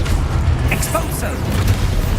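The Expulso spell in Hogwarts Legacy goes off as a loud, dense burst of game explosion and crackling effects over a continuous roar.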